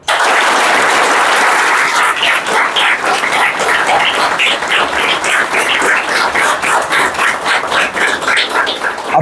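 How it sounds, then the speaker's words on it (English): A large audience applauds loudly and continuously for a recommended student at a teaching event, the dense clapping holding steady for about nine seconds with no talk over it. "Give him a huge clap"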